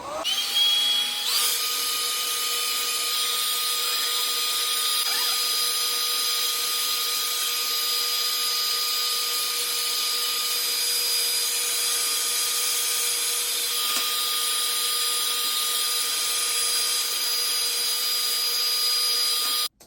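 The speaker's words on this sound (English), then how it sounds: "I'm finna go blow dry the front of my hair real quick" A hair dryer blow-drying the front of someone's hair runs as a loud, steady whooshing drone with a whining tone for about twenty seconds, close by, with no speech.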